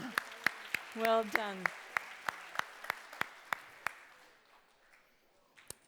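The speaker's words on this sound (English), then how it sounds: "Give yourself a big round of applause" A school assembly crowd gives a round of applause, sharp near claps in a loose rhythm that thin out and fade, with a brief spoken voice over the clapping.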